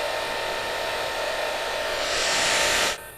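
An inverter drill welder set to its 20-amp minimum hums and hisses steadily for about three seconds, swelling slightly louder before cutting off abruptly near the end.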